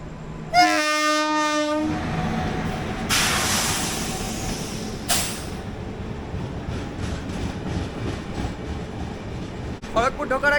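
The Shalimar–Mumbai express passes close on an adjacent track while the observing train stands outside Kharagpur, its horn blaring briefly at the start, followed by a long, loud rumble and clatter of wagons rolling by.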